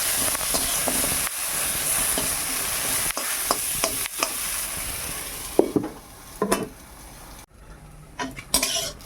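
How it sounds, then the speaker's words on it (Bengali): Pointed gourd (potol) slices fry in a pan in a village kitchen, a steady close sizzle broken by sharp scraping and stirring clatters from a utensil, with no talking. "এবার পটলটা ভেজে নেব।"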